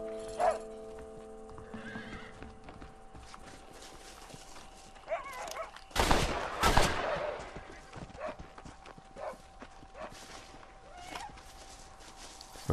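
In the video game Red Dead Redemption, a horse whinnies and neighs amid clip-clopping hooves while dogs or coyotes bark nearby, with loud bursts in the middle and quieter hoof and animal sounds around them.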